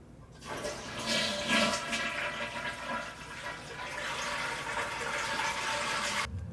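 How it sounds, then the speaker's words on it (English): A household toilet flushes loudly and close up, with a sustained rush and gurgle of water draining from the tank into the bowl, followed by steady refill hiss, before the fill valve is replaced. "we're going to flush the toilet a couple times to get the water out of the tank"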